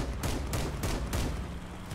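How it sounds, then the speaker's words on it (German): A minigun fires in the vehicle combat game Crossout as a series of sharp, evenly spaced bursts, about four cracks in two seconds, heard at moderate volume over a steady low battle rumble. "Der hat eine Minigun."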